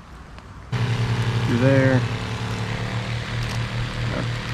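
A CatFish water pump by Black Cat Resources starts abruptly and runs with a steady, loud motor whine and hum close by. A brief rising tonal sweep appears early, and a voice speaks briefly over it.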